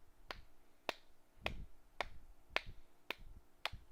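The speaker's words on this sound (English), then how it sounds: "Are you enjoying my slow claps?" Seven sharp, evenly spaced claps ring out about every half second in a slow, deliberate rhythm, crisp and close with no talking.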